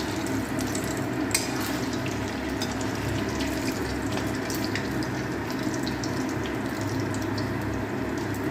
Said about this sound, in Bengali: এখানে আমরা সাদা তেল দিয়ে ভেজে নিচ্ছি